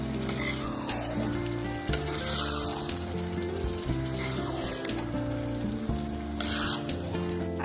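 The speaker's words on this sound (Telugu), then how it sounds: "పచ్చడిని కొంచెం వేపుకోవాలి. ఎక్కువ వేపాల్సిన అవసరం లేదండి." Village-style pacchadi chutney fries in a pan on the stove, giving off a steady, close sizzle with soft stirring scrapes and a few sharper clinks, with no talking.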